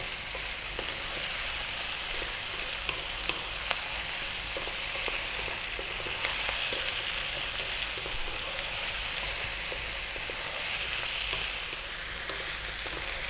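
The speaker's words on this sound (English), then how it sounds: "we're going to go for another 4 minutes on this fairly lively heat, stirring often." Vegetable curry with coconut milk fries in a pan over fairly lively heat, giving a continuous loud sizzle with frequent small scraping and tapping sounds from stirring throughout.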